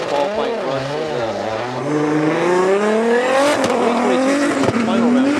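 Drift cars on track during a qualifying run at Fuji Speedway in a Formula Drift Japan final round, engines rising and falling through long revving sweeps with tire noise, a loud continuous roar under commentary.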